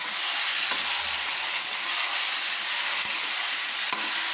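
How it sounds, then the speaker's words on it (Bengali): Chicken pieces being stirred and fried in a pan for chicken curry, giving a steady close sizzle and hiss with a few faint scrapes of the spoon, no talking. "একটু চাপা খুলে নিয়ে আবার আমি নেড়ে নিচ্ছি। একটু চিকেনটা আমি কষাচ্ছি।"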